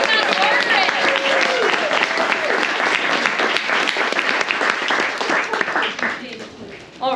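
Audience at the One Book One New Orleans 2023 kickoff applauds loudly for an author's book, with dense clapping mixed with cheers and whoops that fades near the end.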